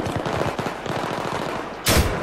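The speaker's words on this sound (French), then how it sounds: "Je me fais tirer par un sniper." Rapid automatic gunfire in the Battlefield 3 shooter, a fast rattling burst of shots followed by a louder, closer blast at the end.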